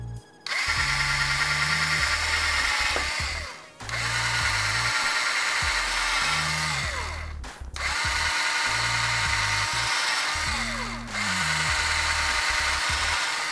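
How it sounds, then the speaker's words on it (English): A power drill bores a few pilot holes into a TurboGrafx 16 console case, whining steadily in three long bursts separated by brief pauses, loud and close. "I'm gonna drill a couple of pilot holes here"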